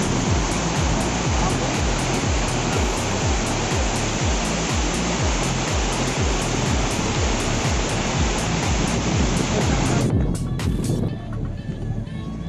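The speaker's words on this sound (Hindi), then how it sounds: "ये लोनावला का दूधसागर वाटरफॉल है" The Dudhsagar waterfall near Lonavala roars as a loud, dense, continuous rush of falling water after heavy rain on the Bhimashankar trek, steady throughout and close by, with a faint voice briefly near the end.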